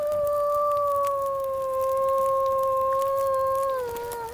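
A dog in The Long Dark survival game gives one long, loud, sustained howl, steady in pitch and dipping at the very end, close and alone with no talk over it.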